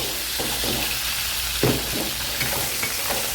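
Crab stirred and frying in a pan for a seafood dish, a steady sizzle under a few scraping strokes of a utensil, one louder clack near the middle, close and alone with no talk.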